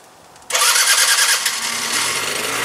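A moped engine abruptly sputters to life after a moment of quiet, then settles into a loud, buzzy idle close by.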